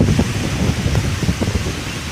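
Strong wind buffets the microphone in a continuous low, rumbling roar with gusty surges and no voices.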